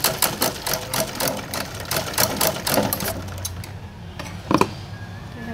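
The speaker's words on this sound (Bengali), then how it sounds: "এখানটাতে ডাবল সেলাই দিয়ে দিচ্ছি যাতে না খুলে যায়।" A sewing machine runs in rapid stitching bursts while double-stitching a nightie seam, loud and close, with the motor whirring and clattering before slowing near the end and giving a few final isolated stitches.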